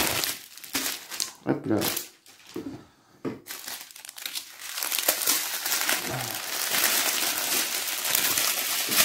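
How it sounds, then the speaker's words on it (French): Diamond painting rhinestone packets being unwrapped, with close, loud crinkling and crackling of plastic packaging in bursts that build to near-continuous rustling, while someone speaks briefly at the start. "J'aurais dû commencer à déballer avant pour éviter le bruit."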